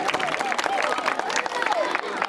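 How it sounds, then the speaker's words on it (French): Applause from the audience at a school prize ceremony: steady mixed clapping with crowd murmur throughout, and voices heard over it. "Applaudissez pour eux."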